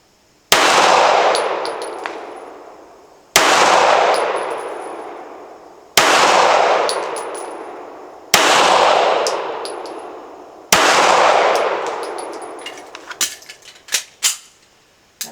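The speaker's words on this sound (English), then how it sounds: "Now I'll just show you what it looks like on a live fire." Five sharp handgun shots on a live-fire range, each a loud crack with a long decaying echo, spaced roughly two to three seconds apart, followed by faint metallic clinks and small knocks.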